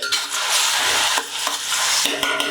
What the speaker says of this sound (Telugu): మొత్తం అన్ని ఉల్లిపాయలు ఇలాగా బాగా ఫ్రై అవ్వాలండి